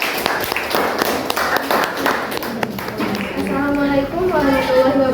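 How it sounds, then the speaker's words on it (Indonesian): Students in a classroom clapping for a group presentation, a busy burst of many hands that fades into children chatting and a voice speaking toward the end. "Kita beri aplaus dulu untuk kelompok 3."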